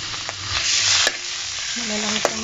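Mamoy fries in hot oil in a home kitchen, giving a loud, dense crackle and sizzle with sharp pops and a couple of clicks from a utensil.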